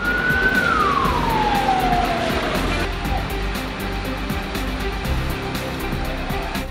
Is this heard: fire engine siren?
yes